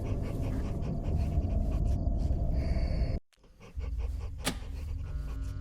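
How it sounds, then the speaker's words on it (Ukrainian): A dog in the Fears To Fathom: Carson House horror game pants steadily and loudly up close, with a brief gap of near silence partway through before the panting resumes. "на кого ти гавкаєш?"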